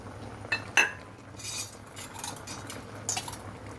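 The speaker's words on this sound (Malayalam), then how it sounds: "നമുക്കിതൊന്ന് ഇളക്കിയിട്ട് കൊടുക്കാം" Mango pulissery with jaggery being stirred in a pot, a spoon scraping and clinking against the metal in a few sharp knocks and soft swishes, close and fairly quiet, with no one speaking.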